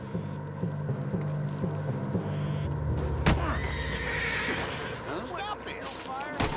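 A horse in Red Dead Redemption 2 whinnies and snorts in the middle of gameplay, with hoof clip-clop and ambient game sound around it, and people talking over much of it.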